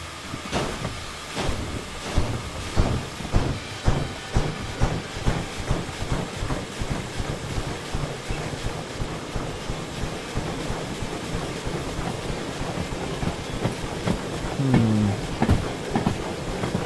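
A train in the Derail Valley video game pulls forward to couple a caboose, giving a continuous rumbling roll with rhythmic clickety-clack beats from the wheels and a soft hiss, with no one talking.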